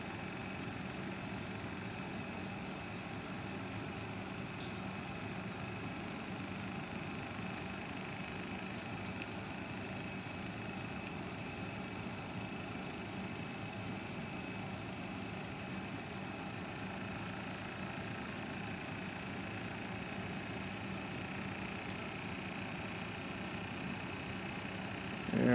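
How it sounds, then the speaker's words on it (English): DPDT-switched repulsion pulse motor running fast and stable, giving a faint, steady hum and whir that holds constant without pauses and with no talking. "Now it's running stably and fast as a repulsion pulse motor."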